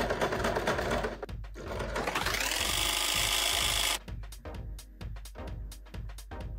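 A sewing machine running a zigzag stitch on thrifted clothing, a sustained motor whir followed by a rapid run of distinct mechanical stitching clicks, close and alone.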